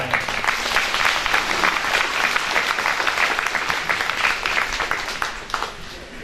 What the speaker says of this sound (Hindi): आइए हम सबों के लिए, प्रत्येक जन के लिए जोरदार ताली बजाएं।